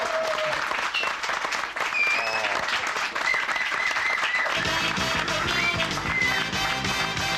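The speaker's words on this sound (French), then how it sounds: "je vous demande de l'applaudir très" Studio audience applause on a French television show, steady clapping mixed with cheers and music, with the band joining in partway through.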